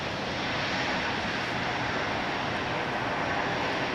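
A fixed-wing airplane roars at Dallas Love Field, a loud, broad, steady engine rush with no breaks, filling the whole span without voices.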